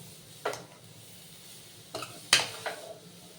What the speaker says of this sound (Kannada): ಈ ರೀತಿ ಕ್ಯಾರೆಟ್ ಹಾಕಿ ಕ್ಲೀನಾಗಿ ಫ್ರೈ ಮಾಡ್ಕೋಬೇಕು ತುಪ್ಪದಲ್ಲಿ ಸ್ವಲ್ಪ ಹೊತ್ತು